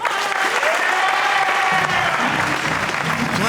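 Applause from a partisan crowd at the 2019 World Pool Masters final, a steady, dense clapping that fills the whole stretch at a loud, even level, with a faint voice briefly audible underneath.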